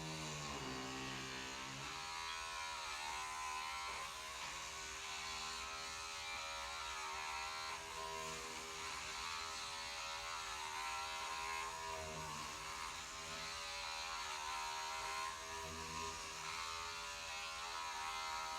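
Electric hair clippers fitted with a number 4 guard buzz continuously during a haircut, a steady close motor drone that barely changes over the whole stretch, with no talk.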